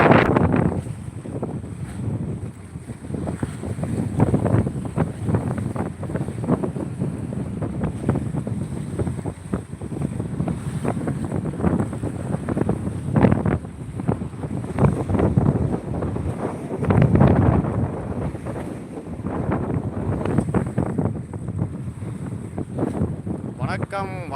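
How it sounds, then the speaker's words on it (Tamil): Steady wind buffets the microphone with a low, continuous rumble, broken by gusts and faint water sounds, while distant voices murmur underneath, on the shore of Veeranam Lake. "காற்று பாருங்கள், அணைக்கறந்த காற்று அடிக்குது பாருங்கள்."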